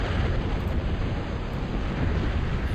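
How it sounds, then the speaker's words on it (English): Ranger ships in Total Annihilation fire missile barrages onto a shoreline, producing a steady, dense roaring wash of launches and explosions that blur into continuous rumble with no distinct gaps. "We've got tons of Rangers shooting missiles onto the shore."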